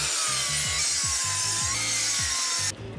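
A saw cuts through a wooden blocking piece for deck joists with steady, rhythmic strokes, close and loud, then stops just before the end.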